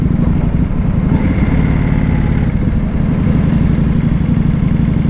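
Steady low, throbbing idle from a 2025 Indian Scout Bobber motorcycle engine, close and continuous with an even rumbling pulse throughout.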